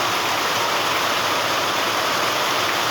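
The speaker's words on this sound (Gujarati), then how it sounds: "હાલ અત્યારનો વરસાદ ધોધમાર ચાલુ છે" Heavy rain pours down in a steady, dense roar, loud and continuous with no pauses, and no voices can be heard over it.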